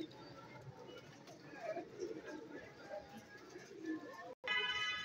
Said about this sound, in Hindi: फिरोजपुरी कबूतर है ये